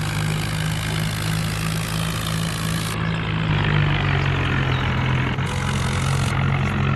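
A tractor engine idles steadily at the roadside beside a village at night as it is parked, a loud, close, unbroken low drone with a constant rumbling pulse and no pauses.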